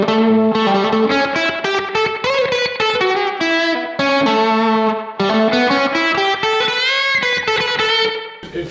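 Distorted electric guitar with effects plays a dominant ninth arpeggio in flowing phrases, notes stepping up and down in steady runs, alone and fairly loud.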